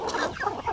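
Hungry chickens in a backyard flock give a quick burst of overlapping clucks close by.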